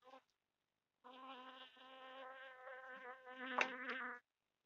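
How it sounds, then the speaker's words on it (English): A bee buzzes close to the microphone outdoors on a deck, a steady droning whine that wavers in pitch for about three seconds after a brief opening buzz, swelling louder as it passes near. "And there's a bee flying around."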